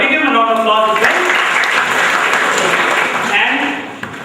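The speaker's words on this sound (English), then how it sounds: "Dr. Gosavi, give a round of applause as well" Sustained audience applause at a memorial quiz event fills the room, steady and dense throughout, with a voice speaking over the start and the clapping thinning slightly toward the end.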